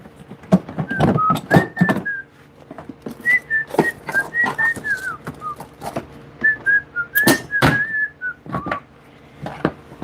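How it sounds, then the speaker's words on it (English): A person whistles a short series of tunes, clear and close, broken by pauses, with some sharp handling knocks and thumps in between. "That's how I can tell I'm hydrated if I can whistle."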